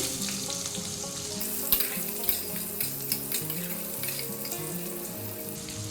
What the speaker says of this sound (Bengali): আলুটা একদম স্লো গ্যাসে একটু নরম করে ভেজে নেব